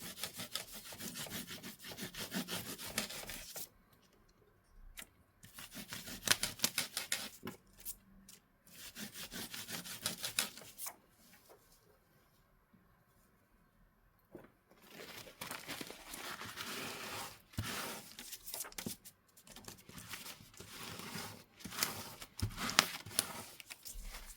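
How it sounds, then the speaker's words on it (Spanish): Baby wipes rub and scrub across a stencil to clean off the material, giving close, continuous rasping and crinkling in long bursts with brief quieter pauses. "A mí me gusta utilizar toallitas de bebé para simplemente limpiar el material."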